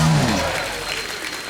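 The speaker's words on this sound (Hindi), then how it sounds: "उषा दीदी के लिए जोरदार तालियां।" Loud applause from a studio audience on a comedy talk show, filling the room and gradually easing over a second and a half, with a faint voice underneath at the start.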